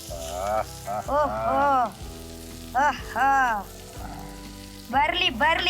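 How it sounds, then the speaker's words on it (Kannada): Surmai (anjal) fish frying on a tawa, a close sizzle under near-continuous conversation, with voices dominating most of the clip. "ಫಿಶ್ ಫ್ರೈ ಇದಕ್ಕೆ ಹಾಕಿ."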